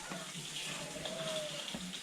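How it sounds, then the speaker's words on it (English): Water runs steadily at a parrot attraction, a continuous gushing hiss at moderate distance with a faint high chirp partway through. "Water."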